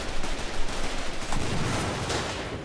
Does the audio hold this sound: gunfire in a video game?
yes